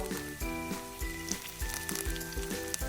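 Masala with curry leaves sautéing in a pan, a soft steady sizzle broken by regular spoon knocks and scrapes that fall in a loose rhythm, with a faint tonal hum underneath.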